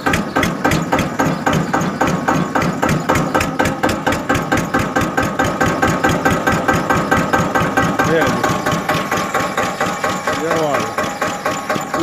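An Eicher 242 tractor engine runs at a steady idle, thumping out a rapid, even chug close by, with brief speech near the end.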